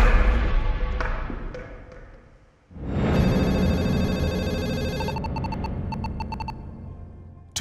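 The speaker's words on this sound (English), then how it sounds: "Two months later, Agent James Kirkendall is woken up by a call" A telephone rings in the night, waking someone: a loud, sustained electronic tone gives way to a series of rapid, evenly spaced ring pulses over a dark background drone.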